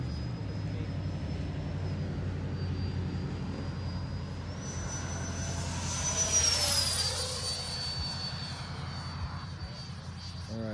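Freewing 80mm T-33 RC model jet making a slow low pass, its ducted-fan whine rising and sweeping in pitch as it passes nearby, over steady background rumble with a few faint voices.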